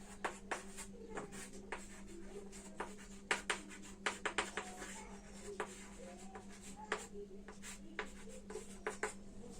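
Pen or chalk taps and scratches out handwritten numbers, giving short irregular strokes and clicks at close range over a faint steady hum, without speech.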